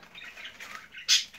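Pet birds on a smallholding, kept alongside budgies, chirp and flutter softly before one sharp, loud squawk near the end.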